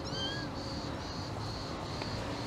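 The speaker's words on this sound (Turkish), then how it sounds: "Şurada da yavru kediler var." Kittens meowing at close range, several thin high cries repeating over a steady noisy background, no talk.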